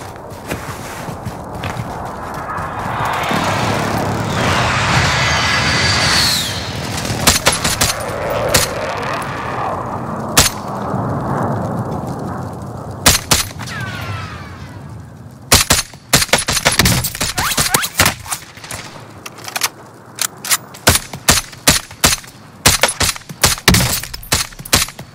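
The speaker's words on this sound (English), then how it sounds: "Enemy precision airstrike." Precision airstrike explosions in a video game, a rapid string of sharp, loud impacts and crackling bursts following a stretch of rumbling noise.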